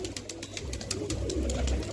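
Low, throaty pigeon cooing repeats in soft rolling phrases close by, with faint rustling and ticking noises scattered above it.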